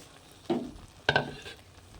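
Water poured into a hot pan of potato dal, giving two quick bursts of sharp sizzling and hissing that fade away quickly, close up and with no voice.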